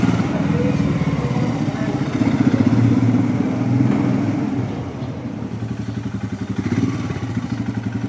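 A Royal Enfield Himalayan motorcycle rumbles steadily along slippery cobbled streets between old buildings and high walls in the Basque Country, its engine thrumming with a rattling, pulsing beat close by.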